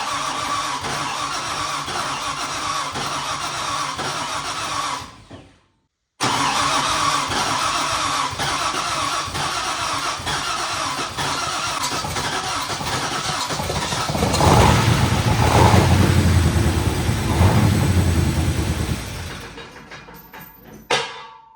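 An LS V8-swapped Ford B2200 pickup cranks and fires up, then settles into a loud, steady idle before a brief cutout, a restart and a burst of revving near the end; nobody speaks.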